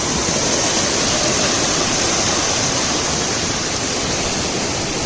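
Water rushing in a dam channel after heavy rain, a loud, continuous, broad roar that stays steady throughout with no talk.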